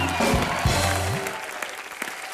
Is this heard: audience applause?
yes